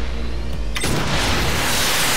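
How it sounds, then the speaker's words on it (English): A loud video game explosion from Saints Row The Third bursts in after a sustained roar, leaving a dense, rumbling wash of debris noise that fills the rest of the moment. "Explosion!"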